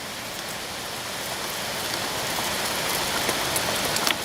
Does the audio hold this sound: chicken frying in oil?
no